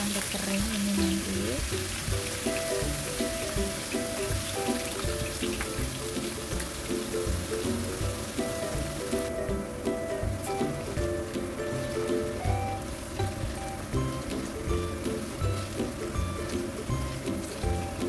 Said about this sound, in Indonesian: Kita goreng kentangnya sampai kering ini nanti